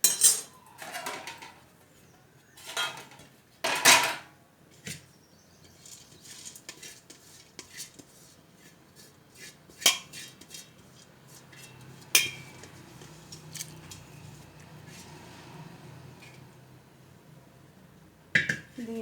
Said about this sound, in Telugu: ఇప్పుడు ఈ రైస్ కలుపుకోవాలి, ఎక్కువ కలుపుకోవద్దు.